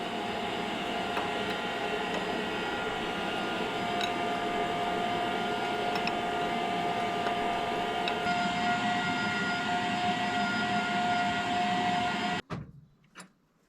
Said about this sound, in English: So I've got my vacuum cleaner going into the hydraulic tank, making a negative pressure there.